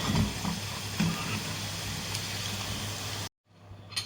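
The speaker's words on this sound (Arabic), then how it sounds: "بتاعتي كلها في الزيت، هقليها كده ايه، تاخد كده طبقه مقرمشه من بره" Continuous crackling sizzle of potatoes frying in hot oil, steady and close, cutting out abruptly near the end before a brief faint return.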